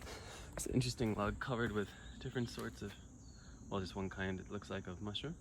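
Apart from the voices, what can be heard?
cicada calling in the background in Japan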